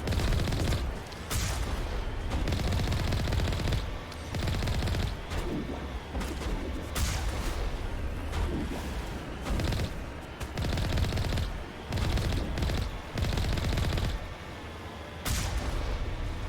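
Rapid bursts of gunfire in Mass Effect Legendary Edition, repeated volleys of shots and booms with short pauses between them, loud and close throughout.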